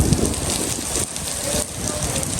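Heavy rain pours down during a typhoon on the coast of Antalya, Turkey, a dense, loud, continuous hiss of drops close by.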